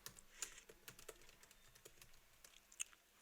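Quick, light keystrokes on a computer keyboard while a prompt is entered, an irregular run of soft clicks close by in a quiet room with no talking.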